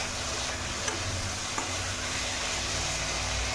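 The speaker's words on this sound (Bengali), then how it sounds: "ভালো করে ভাজা হয়ে গেলে করলতা ঝিঙে আর আলুটা" Ridge gourd and potato fry in a pan with a steady, even sizzle, close by, broken by a couple of faint clicks of stirring, with no voices.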